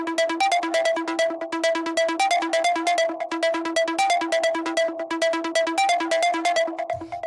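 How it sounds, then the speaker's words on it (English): A synth lead from a 134 BPM breakbeat techno track in E repeats a simple fast staccato pattern of bright tonal notes, loud and alone, with a low thump near the end. "The first sound that we have here is this lead"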